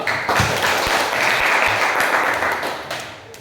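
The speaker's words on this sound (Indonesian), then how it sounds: "Tepuk tangan dulu." A classroom of students claps together in a lesson, a dense, loud burst of applause that holds steady for about three seconds before tapering off.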